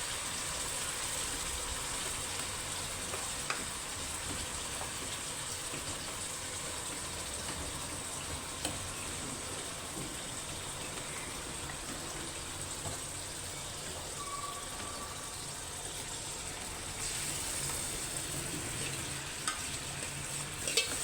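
Chicken fries in a pot for a military-style chicken biryani, giving a soft, steady sizzle that runs on without a break for about twenty seconds, with faint clinks and no voices.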